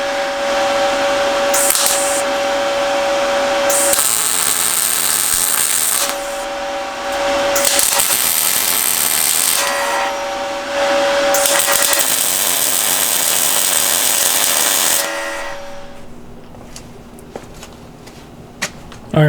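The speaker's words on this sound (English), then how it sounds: "Alright, let's tack this up." Tack welding on a steel over-the-spare hitch basket for a Jeep TJ, with the powder coat ground off at the weld spots: several long, loud buzzing bursts with a steady tone, separated by short pauses, fading to quiet at the end.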